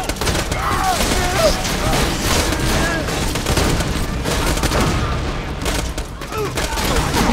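Dense, continuous gunfire in the Borderlands video game, with loud rapid bursts and booms filling the whole stretch and voices talking underneath.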